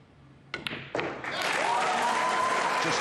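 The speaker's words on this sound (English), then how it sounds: "Just listen to the crowd, listen to the noise." A US Open pool match crowd erupts from a quiet room into loud, sustained cheering and applause, with a couple of sharp claps and thuds at the start, then a dense, continuous roar with whistles that fills the space.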